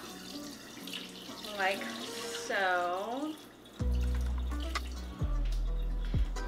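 Running water splashes as starchy rinse water is poured off rice being washed in a sink, steady and close, with a person talking over it.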